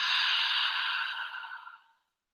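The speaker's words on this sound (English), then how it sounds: "Breathing in through the nose, exhaling out through the mouth." A single long, deep cleansing exhale from a guided breathing exercise, breathed in through the nose and out through the mouth, an airy breathy rush that holds steady and then trails off into silence, close and alone.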